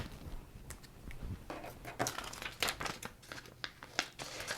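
Quiet crinkling and snipping while a sheet of color-changing heat transfer vinyl is trimmed down, an irregular stream of small crackles and cuts.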